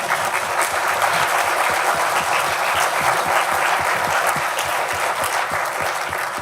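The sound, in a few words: audience applause for speaker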